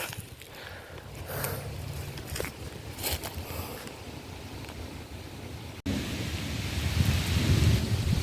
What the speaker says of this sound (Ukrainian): Дощ. Дощ гримить.